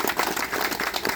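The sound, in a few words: audience applause at memorial ceremony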